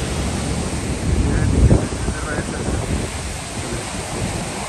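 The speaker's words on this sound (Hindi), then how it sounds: "हम इस वक्त डैम के ऊपर, थोड़ा दूर से उठाऊंगा और पानी का प्रेशर देख रहे हो" Water rushing under pressure at a dam, heard from a short distance above as a broad, steady roar with a brief louder swell near the middle, buffeted by wind on the microphone.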